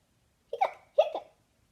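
A voice reading a children's story imitates hiccups, giving two short, sharp vocal hics close to the microphone, each followed by a brief trailing breath.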